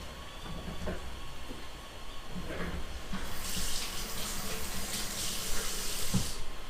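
Water from a sink tap during handwashing, starting as low rumbling handling noise, then a steady hissing flow from about three seconds on, close and moderately loud, with no talking.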